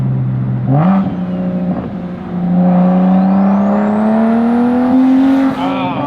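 A BMW 335i with an N55 engine and big single turbo pulls hard under boost, its loud engine note climbing steadily, with a rising turbo whistle and a louder rush as the dump pipe opens near the end.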